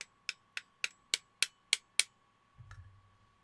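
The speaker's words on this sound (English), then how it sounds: "I hit that with the hammer and it actually worked." A hammer strikes an airsoft gun part eight times in a quick, even rhythm, each hit a sharp close metallic knock, followed by a brief soft rustle of handling.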